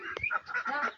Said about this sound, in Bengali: অবশেষে হাঁসগুলো উঠাতে পারলাম